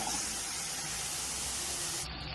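Green chillies, sesame seeds and spices fry in hot oil, giving a dense, steady hiss like a spray that stays close and even for a couple of seconds with no talking.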